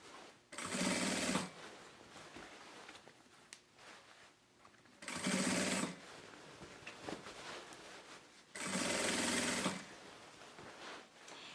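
A sewing machine runs in three steady bursts of rapid whirring stitches, each a few seconds long with quiet pauses between, as it sews a fabric toy organizer basket close by.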